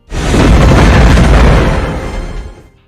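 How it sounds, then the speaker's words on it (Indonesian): A spaceship blows up in a science-fiction film about humans at war with alien insects, a loud, dense roaring blast that swells almost at once, holds heavy rumbling for a couple of seconds, then rolls off into silence. "Mereka berdua berhasil keluar dari pesawat luar angkasa mereka itu tepat sebelum pesawat itu meledak."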